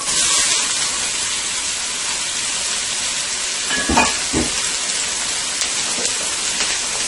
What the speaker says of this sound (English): to my oil that I have preheated here, I am going to add my 1 cup of onions